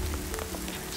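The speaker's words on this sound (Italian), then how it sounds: "Piove." Rain falls steadily in the mountains, a dense close patter on leaves and ground with no talk.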